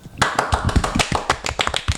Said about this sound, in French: applaudissements pour Stéphanie